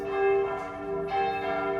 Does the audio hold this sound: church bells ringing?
yes